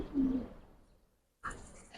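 A female Giribaj pigeon gives a low, brief coo close by, followed by a short pause and then a burst of brighter noise.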